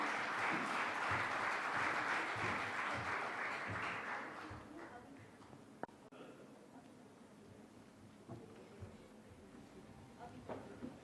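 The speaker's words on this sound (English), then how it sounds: "Let's have a round of applause for our speaker" Audience applause at a conference on sustainable urbanization financing, a dense round of clapping for about four seconds that fades into quiet room tone with a couple of sharp knocks.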